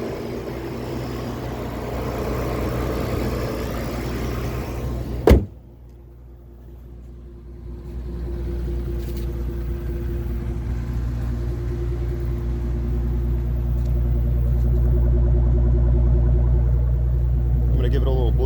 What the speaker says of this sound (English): It's got a nice low rumble to it.